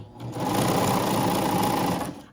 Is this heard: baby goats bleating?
no